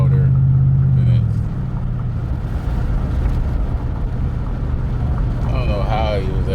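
A 2008 Ford F150 pickup with a loud muffler idles in a steady, deep exhaust rumble that opens with a brief droning tone and carries on evenly throughout.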